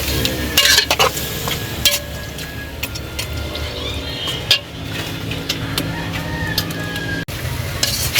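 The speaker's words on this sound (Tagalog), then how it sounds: "atin po muna sinasangkot yung ating karing manok" Native chicken sizzles and fries in a hot pan, with scraping stirs and clinks of a utensil against the metal, and a rooster crows faintly in the background.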